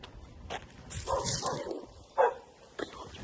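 A dog barks a few times at a distance from thickets near an abandoned building, short yelps and woofs scattered among rustling and faint background noise.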